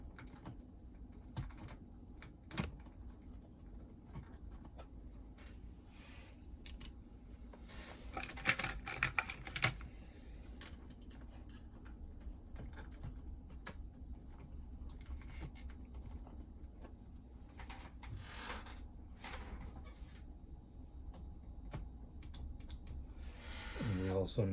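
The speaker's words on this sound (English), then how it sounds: "Now we get the actual cassette deck back in place." Sharp GF-9696 boombox cassette deck being seated back into its housing, a run of small plastic clicks and knocks with a brief cluster of louder clatter partway through, close up over a steady low hum.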